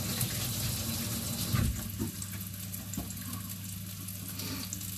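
A kitchen tap runs in a steady, hissing stream while hands are washed, with a low hum underneath and a few soft splashes.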